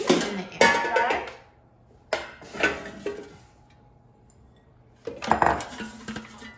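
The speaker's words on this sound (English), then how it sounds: "let's put this gnocchi in the air" Gnocchi dropped into an air fryer basket, sharp metallic clatters and scrapes in a few short bursts separated by quiet pauses, close and fairly loud.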